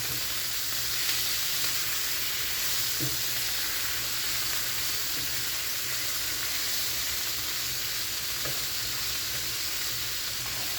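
Chicken and cabbage stir fry seasoned with white pepper, sizzling loudly and steadily in a hot pan, with a couple of soft stirring knocks under the constant hiss.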